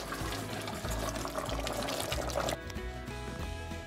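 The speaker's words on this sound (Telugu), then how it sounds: "సో బేసికలీ మటన్ ఉడకడానికి నేను 240 ml ఆఫ్ వాటర్ అయితే యాడ్ చేశాను అనమాట." Water, 240 ml, pours steadily into a pot of mutton pulav, making a continuous close splashing fill that thins to a lighter trickle near the end.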